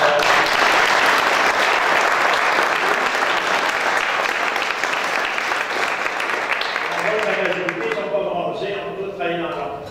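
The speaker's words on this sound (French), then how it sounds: "on pourrait applaudir les bénévoles" An audience claps for volunteers at a Québec Optimist Clubs tribute gathering: dense, loud, sustained applause that slowly thins near the end, with a voice starting to talk over it.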